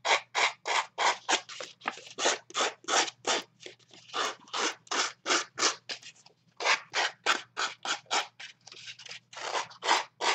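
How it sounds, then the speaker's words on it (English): Scissors scraped along paper edges to distress them while altering a gift bag, a quick run of close, dry rasping strokes in a steady rhythm, with a short pause midway and no talking. "so I use my scissors."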